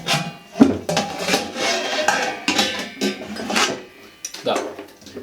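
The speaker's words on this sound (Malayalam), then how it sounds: "അതിനുശേഷം ഇതിൻ്റെ അടപ്പ് ഇത് അടയ്ക്കുന്നത്." A large 15-litre metal pressure cooker lid is shut with a few close metallic clanks and scraping rubs, under a voice talking.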